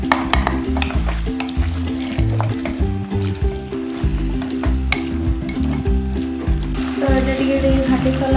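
Chicken with masala sautés in a pan, producing a continuous sizzle broken by frequent scraping and clattering stirs, close and moderately loud, over a steady tonal background hum.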